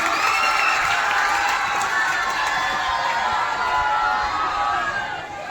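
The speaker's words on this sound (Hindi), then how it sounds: "प्रिया के लिए एक बार जोरदार तालियां हो जाए" Applause for Priya at a school quiz contest, a steady roar of clapping and cheering from a crowd of children that holds loud throughout before easing slightly at the end.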